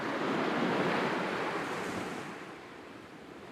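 Sea waves break on a beach of wet sand, a broad, steady surf roar with some wind, loud at first and easing slightly toward the end, with no voices.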